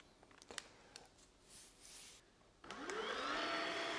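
Kärcher FC7 floor cleaner switching on: a few small clicks, then at about 2.6 seconds a motor starts and holds a steady whir with a rising whine. It runs on to the end, close by and moderately loud, with no talk.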